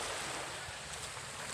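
Sea surf close to a house during a typhoon, a continuous loud roar of breaking waves mixed with wind rushing across the microphone.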